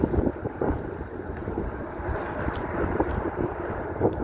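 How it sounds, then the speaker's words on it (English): Steady roaring wind gusting up to about 30 mph buffeting the microphone, a constant low rumble that swells slightly in gusts, with no voices. "we're having some gusts of wind here."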